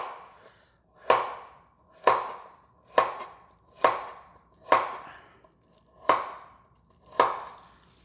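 Knife chopping carrots on a cutting board, eight sharp, evenly spaced knocks about one second apart, close and distinct, with no talking.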